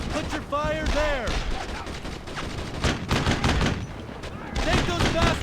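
Repeated gunfire from a World War II battle in the Brothers in Arms video game, loud bursts and shots cracking steadily throughout, mixed with shouted voices and battlefield chatter.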